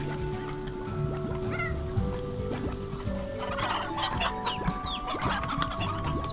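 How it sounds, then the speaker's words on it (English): Briar hen chickens in the Slime Rancher video game cluck repeatedly in short, scattered calls over a constant background of game music and ambience, moderately close. "Here's some new kind of chick, hens. It's a briar hen."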